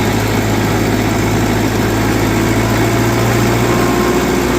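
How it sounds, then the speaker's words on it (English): An old Caterpillar D4 bulldozer engine running steadily and loud up close, a continuous diesel drone with a strong low hum that rises slightly in RPM, with no talking over it. "What a sweetheart this old D4 is. It's a good running motor. So we get her a little more RPM."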